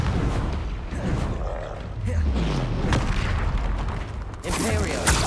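Confringo spell explosions booming in the game Hogwarts Legacy, several heavy blasts with crackling bursts in quick succession, mixed with grunts and a voice calling out spells.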